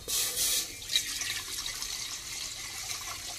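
Water pours steadily into a cooking pot set up for payesh, a continuous splashing gush that stays close and even throughout.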